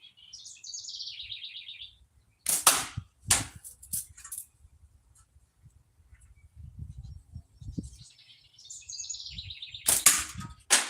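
Slingshot shots strike and cut pop cans outdoors, giving a few sharp, loud cracks in two bursts, with birds chirping between them.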